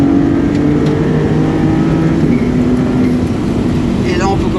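The 630-horsepower Maserati MC20 accelerates hard, its engine a loud, steady, rising roar heard from inside the cabin, with a faint tyre and wind hiss and no clear speech.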